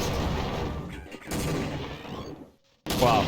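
Gunfire from Half-Life: Source comes in loud, close bursts of rapid shots, with a short silent gap before a final burst, and no one talking.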